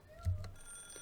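A telephone rings briefly in the Higurashi visual novel, a short electronic ring tone with a soft low thump, faint and alone.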